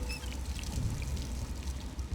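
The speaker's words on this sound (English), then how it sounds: "And I can drink some water as well." Water is drunk in the stealth video game Dishonored 2, a steady soft trickling, pouring wash that runs for about two seconds over a low background rumble.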